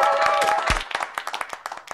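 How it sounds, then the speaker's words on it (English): A studio audience gives a round of applause to welcome a guest on a live podcast, with quick, close claps that thin into separate sharp hits, over brief talk and a low thump. "Give it a big round of applause."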